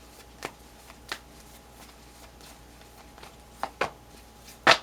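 A deck of tarot cards is shuffled in short, separate riffles and taps, a few crisp bursts spaced over several seconds against a quiet background, the last burst the loudest and close by.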